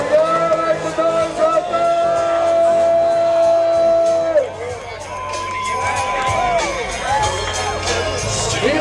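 Crowd at the Dropfest car show cheering and whooping, loud shouts and yells over a wavering car engine whine and tire noise, with scattered voices throughout.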